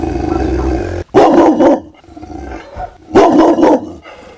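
A dog barks loudly in two harsh bursts close to the listener, with a low rumbling growl between them.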